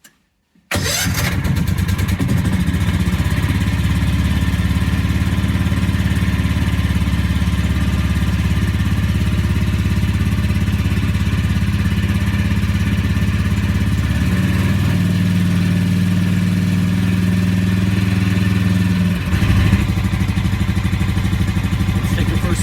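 A snow plow's new engine cranks briefly, then catches and starts, settling into a loud, steady running drone close by that carries on for about twenty seconds, with a slight change in pitch partway through.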